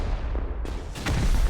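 Explosions in the video game Rust during a 4v4 tournament match, a couple of short muffled booms over a dense low rumble.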